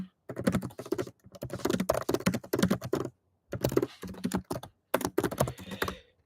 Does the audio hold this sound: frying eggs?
no